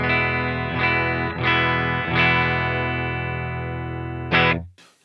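Electric guitar on an archetype clean tone through a Line 6 Helix into a vintage V30-loaded 412 cab, with several strummed chords ringing out and sustaining, then a final chord cut off abruptly.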